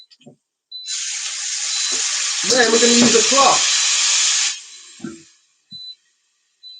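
A small splash of water hits a hot griddle beside a smash burger with its bun top, and a loud, steady steam hiss rises, then cuts off when a bowl goes over it. Someone speaks over the hiss.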